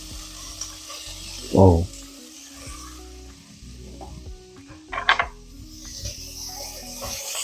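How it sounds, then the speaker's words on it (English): Onions and jalapenos frying in a pot for brisket chili give off a steady sizzle, with two louder clattering bursts from stirring and one short exclamation from a voice. "Onions and jalapenos in there. Let them start cooking up."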